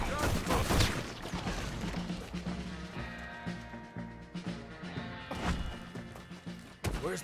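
Handgun gunfire from a shootout with a patrol in the video game Red Dead Redemption 2: loud bursts of shots open and close the stretch, with game music and a sustained din of combat running between them.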